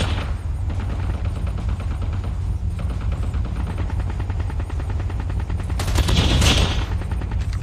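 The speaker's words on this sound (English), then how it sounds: "I'm hearing more shots over here" Rapid bursts of gunfire fill a video game firefight, a dense, loud stream of shots with a louder cluster of blasts near the end.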